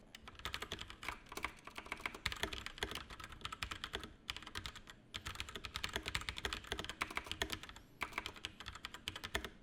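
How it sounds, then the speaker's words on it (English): Keycaps clack steadily as someone types on a desk holding a Razer Siren X microphone, giving a quick, busy patter of faint close key strikes with a couple of short pauses. "whenever you type on the desk with the actual microphone on it, it's going to pick up that noise of the keycaps"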